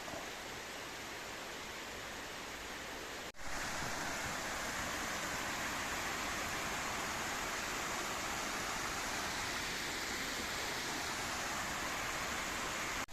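A small waterfall cascades over tufa rock in a mountain valley near Val d'Isère, giving a steady, full rushing roar that stays close and continuous from start to finish after a brief dip early on.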